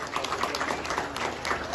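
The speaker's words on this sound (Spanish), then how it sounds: "quiero esta noche pedirles un gran aplauso para todos estos niños" Applause for a group of children at a school event, a dense, steady patter of many hands clapping throughout, moderately loud with no break.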